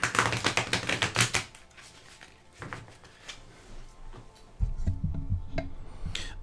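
Rapid papery riffling of a stiff new tarot card deck being shuffled, a close burst of crisp flicks followed by quieter rubbing and handling, then low rumbling movement near the end.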